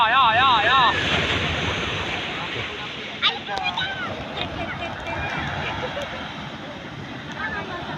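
Strong sea waves crash onto the shore at a beach in Calaca, Batangas, a continuous rushing surge with wind buffeting the microphone while people talk nearby.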